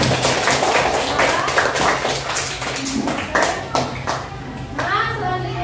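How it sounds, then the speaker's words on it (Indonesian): Classroom applause at the close of a teacher-training lesson: a group claps in a steady, dense patter for several seconds, with children's voices chattering underneath. "tepuk tangan untuk kita semua"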